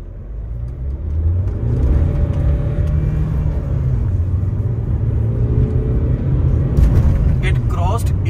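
A Mahindra XUV300 SUV engine runs during an acceleration test, heard as a steady, loud cabin rumble with a rising drone as the car picks up speed, continuous throughout.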